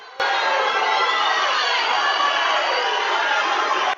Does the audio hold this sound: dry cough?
no